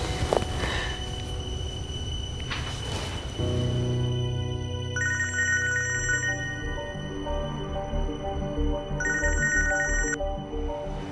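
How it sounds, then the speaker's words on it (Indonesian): Ringback tone of an outgoing phone call, two long electronic ringing bursts separated by a pause, clear and steady over low background rumble, with no talking. "Sebentar saya telepon Randy dulu ya."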